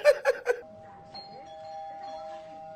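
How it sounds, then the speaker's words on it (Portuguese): A doorbell rings in a home: three quick bright chimes, then a sustained ringing tone that lingers and fades over a quiet room. "Quem tá tocando essa campainha aí"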